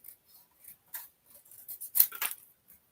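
Scissors snip through paper card during a paper-craft stamping session, a few quiet cuts then a louder cluster of sharp snips close up, with no talking.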